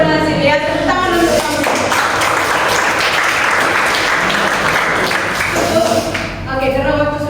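Classroom students break into steady group applause after a lesson activity, loud and continuous, with a teacher's voice before and after.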